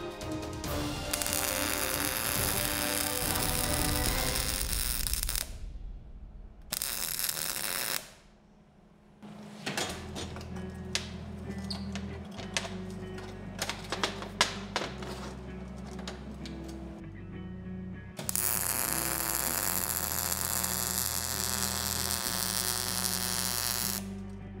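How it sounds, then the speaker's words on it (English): Welding joins three pieces of a sword-straightening jig in a forge shop, heard as a continuous loud crackling buzz with a low hum. It breaks off for pauses, then restarts with sharp sputtering spikes before going back to the steady buzz. "let's finish welding everything together"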